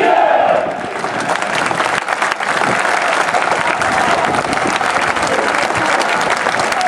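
A large stadium crowd applauds and cheers a player at a football team presentation, a loud, dense wash of clapping that carries on steadily throughout.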